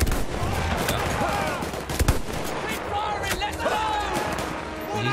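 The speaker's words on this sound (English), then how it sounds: "Ah, machine guns." Machine gun fire in the World War I shooter Battlefield 1, dense rapid bursts with sharp cracks mixed with other gunfire and battle noise, loud and continuous, with someone talking over it.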